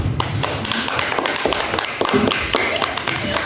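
A classroom of children clapping for a classmate, a quick, uneven patter of small hands up close, with scattered taps and thumps in the room.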